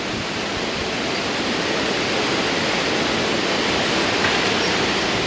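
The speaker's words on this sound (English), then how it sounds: "That is some serious wind." Strong wind during a thunderstorm roars steadily throughout as broadband, unbroken noise, loud and close, with no talk.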